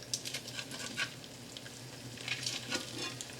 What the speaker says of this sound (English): once the oil has heated, we're going to start adding in the salmon patties.